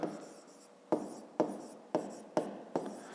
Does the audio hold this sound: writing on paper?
yes